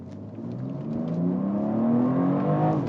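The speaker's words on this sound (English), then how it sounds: "Goodness gracious, this car just picks up so quickly." BMW X3 M Competition SUV accelerating hard, its engine note rising steadily in pitch and loudness from inside the cabin, a smooth continuous drone with no talking.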